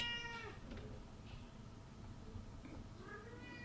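A house cat meows a few times, faint and somewhat distant, in a busy home, with low background noise and a voice murmuring underneath.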